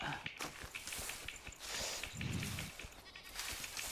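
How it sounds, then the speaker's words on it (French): Sheep bleat in the survival game Enshrouded, a clear mid-distance bleat standing out over soft in-game footsteps and ambient background noise. "Hop, mouton."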